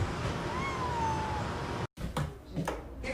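A cat gives one drawn-out, falling meow close by, followed by a sudden cut and a few muffled bumps and shuffles.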